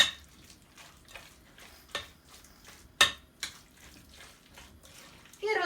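A spoon stirs and mixes minced chicken cutlet mixture in a bowl, soft scraping and occasional clinks against the side, quiet and close, with a voice speaking lightly throughout.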